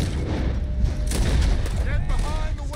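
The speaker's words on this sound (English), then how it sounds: "Arthur, shoot someone!" Gunfire in the Red Dead Redemption 2 video game during a wagon push, a scattered run of shots and clatter under shouting voices and game noise.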